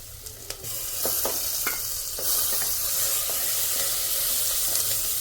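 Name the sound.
spice masala frying and being stirred in a pan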